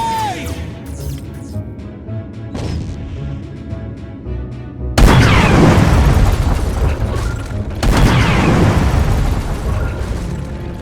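Torpedoes launch and detonate in The Battle at Procyon: a tonal game ambience gives way to a sudden heavy boom, then a second roaring explosion, both loud and rumbling with a long decaying tail.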